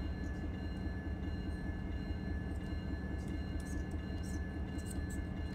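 Diesel locomotive throttling up in the Run 8 train simulator game, a low steady rumbling engine drone with a constant high whine above it, fairly quiet, with faint clicks and no talking.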